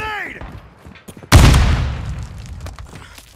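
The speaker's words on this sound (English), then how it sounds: "Throwing grenade!" Call of Duty: Modern Warfare II grenade blast erupts as a sudden loud boom, then decays into rumbling debris and scattered gunfire, with a few bright electronic tones and faint in-game voices at the start.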